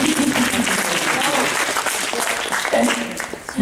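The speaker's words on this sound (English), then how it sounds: "Give them a round of applause." Audience applause at a Kitacon convention gaming panel, a steady wash of clapping from a crowd filling the room, moderately loud and continuous, with voices calling out faintly underneath.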